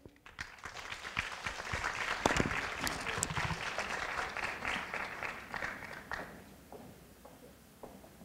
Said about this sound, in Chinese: 接下来让我们用热烈的掌声欢迎